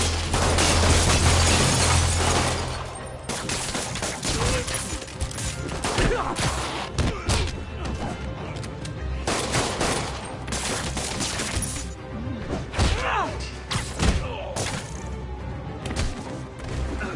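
Rapid bursts of gunfire crackle through a Spider-Man video game fight, dense and continuous at first, then breaking into scattered shots, crashes and impacts over a busy, layered soundtrack.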